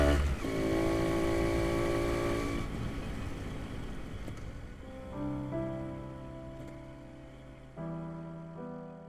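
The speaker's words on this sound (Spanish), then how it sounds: "Es una moto que tiene un espíritu de comerse la carretera, de estar siempre rodando, tiene un sonido muy particular" A Montesa Impala Sport 250 motorcycle engine hums at a steady pitch while ridden on the road, its tone dropping and rising again between gears, moderately loud with no talk.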